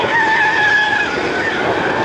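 A race car in a racing video game skids, with a loud, sustained tire squeal riding over roaring engine noise for a couple of seconds.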